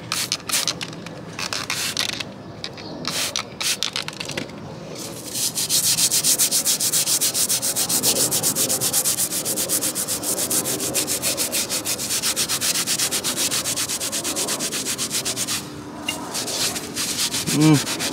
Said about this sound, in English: We're gonna have to scuff this with the red with some degreaser and see how far it gets us.